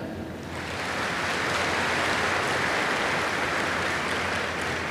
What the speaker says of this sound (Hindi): कुमारों के लिए ताली बजाओ।